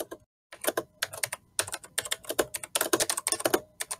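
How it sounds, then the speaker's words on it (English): Rapid bursts of typing on a computer keyboard, clustered clacks in quick irregular runs with short pauses, close and fairly loud with no talking. "No, it's just me trying to type."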